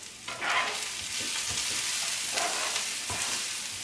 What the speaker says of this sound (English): I'm going to just throw this garlic in. Give it a stir.